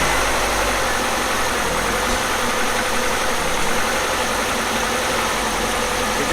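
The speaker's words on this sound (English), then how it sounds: "I'm going to start the engine, see how it behaves" A car engine runs at a steady idle, a constant low mechanical hum with faint vibration and no other sounds.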